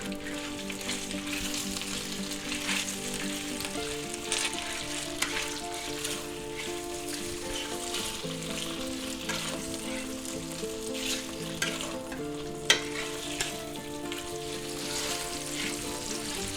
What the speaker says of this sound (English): pork that we sliced up and marinated nicely and we're going to put that right in there, just like this. Alright, let's stir fry that around.